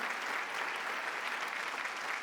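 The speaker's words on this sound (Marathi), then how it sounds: "एकदा जोरदार टाळ्या त्याच्यासाठी" Audience applause in a comedy show studio, a steady, fairly faint wash of many hands clapping that holds at an even level throughout.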